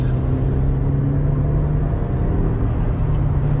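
A car engine pulls hard under acceleration in second gear, a loud, steady droning rumble with a constant hum, heard continuously from inside the vehicle with no talking.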